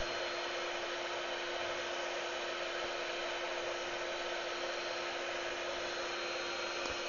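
A heat tool blowing hot air onto an HP Burst R3 14-fq0110wm laptop panel to loosen it, a steady, even, close whooshing hum that runs unbroken throughout with no talking.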